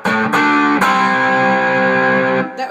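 Electric guitar played through a heavily distorted guitar rig: a loud, sustained distorted chord rings out after a couple of quick strums, held steady and then cut off near the end, with no voice over it.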